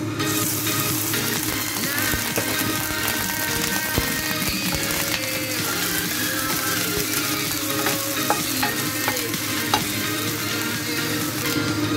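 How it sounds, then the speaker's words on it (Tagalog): Chopped spring onion fries in hot oil in a pan, a loud, continuous crackling sizzle with small pops and occasional stirring scrapes, with no voices. "Nagpainit tayo ng oil sa pan at ilagay na natin ang ating spring onion."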